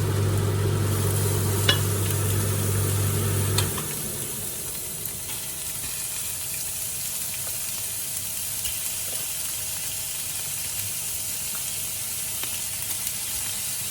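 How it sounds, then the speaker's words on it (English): Five hundred grams of mince frying with browning onions, a continuous close sizzle and hiss with a low hum at the start, then steady frying with faint occasional clicks. "We've got 500 grams of mince. That's going to go in with the onions as soon as they start browning."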